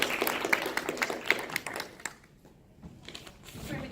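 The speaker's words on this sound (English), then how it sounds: "Round of applause for her, please." A small convention press-junket audience claps for a guest, a thin, uneven patter that drops away sharply midway and then resumes more faintly.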